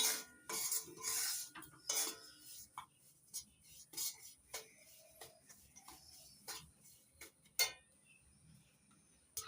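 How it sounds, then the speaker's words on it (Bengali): Semolina stirred and dry-roasted in a pan over low to medium heat, with sharp scraping clinks of a spoon against metal in irregular bursts between quiet gaps, close and fairly soft. "এবার অনবরত নাড়াচাড়া করে লো টু মিডিয়াম রেখে চার পাঁচ মিনিট ভেজে নিতে হবে"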